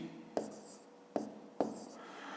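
Numbers are written by hand with pen on paper, close and quiet, with three distinct taps of the pen landing among soft scratching strokes.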